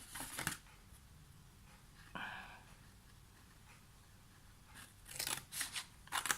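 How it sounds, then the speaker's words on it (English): Small paper snips cut paper for a handmade gift box, giving a quick crisp snip at the start, a brief rustle in the middle, then a cluster of sharp snips near the end, all close and quiet with no talking. "Probably better using bigger scissors than I am, rather than paper snips."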